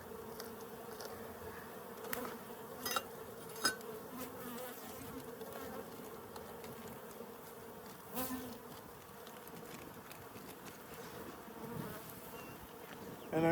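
Honeybees buzzing around a backyard beehive kept by a beginner beekeeper in Colorado, a dense, steady drone from many insects with a few louder passes close by, and no talking.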